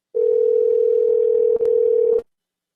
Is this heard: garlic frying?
no